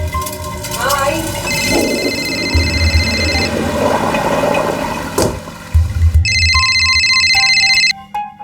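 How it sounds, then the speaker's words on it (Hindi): An electronic phone ringtone chimes in repeated bursts, loud and close, over a busy background of music and movement. "देखना तेरा फोन बज रहा है"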